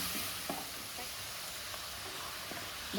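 Steady sizzling of beef frying in a pan with mint, with a few soft stirring scrapes and clicks throughout; no voices.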